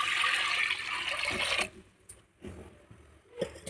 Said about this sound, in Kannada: ಇವಾಗ ಅರ್ಧ ಚೊಂಬು ನೀರು ಹಾಕ್ತಾಯಿದ್ದೀನಿ.